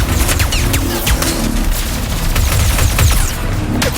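Rapid bursts of gunfire from real bullets in the video game Ratchet & Clank: Rift Apart, loud and continuous with overlapping shots and impacts filling the whole stretch, no talk.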